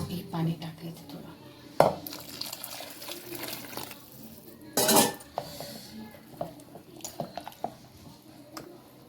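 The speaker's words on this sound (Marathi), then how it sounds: "हे पाणी टाकायचं थोडं." Water is poured into a pan of pav bhaji being mashed, a brief splashing gush amid metal clinks and scraping of utensils against cookware, close and moderately loud.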